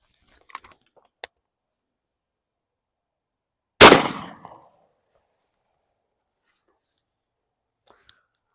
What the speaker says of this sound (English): That kicked a lot harder than any dove shell I've shot in a very long time